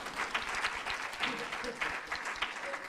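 An audience at the opening session of a conference on empowering girls and women in Armenia claps in a moderate, steady round of applause. The sound is fairly distant and soft.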